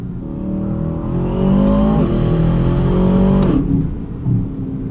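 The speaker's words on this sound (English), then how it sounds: "Of induction noise and noise from those turbos" A 2024 Aston Martin DBX 707 SUV's AMG-built twin-turbo engine revs hard under load with a whooshing intake and turbo whistle, climbing in pitch, briefly dipping at a gear change, then easing off.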